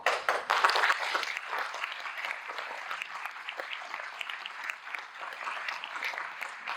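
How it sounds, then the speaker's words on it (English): Audience applause at a conversation event, a dense burst of clapping that peaks loudly in the first second, then settles into steady, moderately loud clapping that continues throughout with no talk over it. "that rightly deserves an applause"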